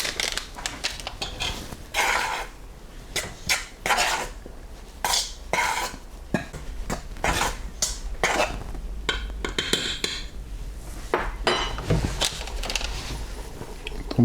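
Salt, sugar and dried yeast are mixed in a bowl for bread rolls, producing irregular close scrapes, taps and clinks of a utensil against the bowl.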